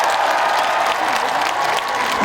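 Concert audience at an outdoor performance by a singer in Ulju breaks into loud, dense applause with some cheering, sustained steadily throughout.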